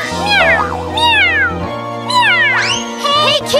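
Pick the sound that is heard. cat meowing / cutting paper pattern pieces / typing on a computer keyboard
cat meowing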